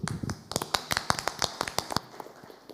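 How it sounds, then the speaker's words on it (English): An audience at a local area forum meeting gives a round of applause, a modest scattering of individual hand claps, fairly sparse and quiet in a small room. "I would like to give you a round of applause."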